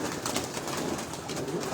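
Kamagar breed pigeons coo on a rooftop in a short, soft burst of throaty murmuring against steady background noise.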